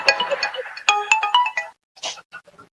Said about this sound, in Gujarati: સાલું ફોન આવે તાર દાદા ને કોક નો.